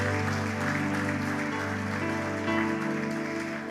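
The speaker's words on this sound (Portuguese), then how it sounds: "Só quem crê, aplauda Jesus bem forte." A church congregation claps loudly for Jesus during a sermon, a sustained wash of applause over a steady tonal background, continuous from start to finish.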